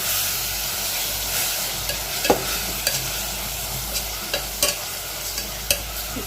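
Masala and beef sautéing in a pan for Kerala-style beef fry, a steady close sizzle with scattered sharp clicks of a spoon scraping and stirring through the mixture, no voices.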